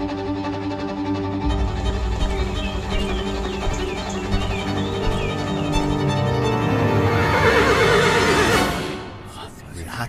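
A magical iron horse in an animated Vietnamese folk tale lets out a long, loud whinny over a music score, rising to a peak before cutting off near the end.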